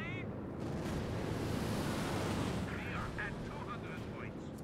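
Aircraft strafing run in a Company of Heroes 2 4v4 battle: a loud, roaring wash of gunfire and explosions that swells and then eases, with brief whistling tones above it.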